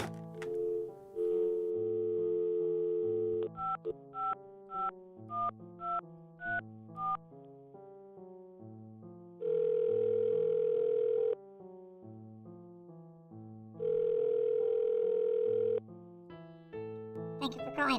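Someone dials a telephone, a series of short keypad tones that follow a steady dial tone and then a ringback tone that comes twice. The sound is clear and close, and the room is otherwise quiet.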